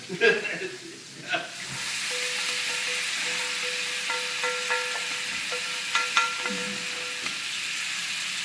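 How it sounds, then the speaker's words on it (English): Steady frying sizzle with a broad hiss, a few clinks and stirring scrapes over it, close and continuous. "Got some sizzling going on."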